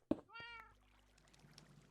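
Cats meowing in the Minecraft video game: one clear, fairly loud meow near the start, followed by quieter chirps and faint game background sounds.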